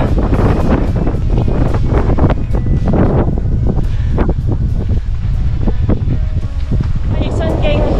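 Strong gusts of wind buffet the microphone on a hillside hiking trail on Hong Kong Island during a rainstorm, a loud, continuous rumble broken by sharp bursts, with people talking over it.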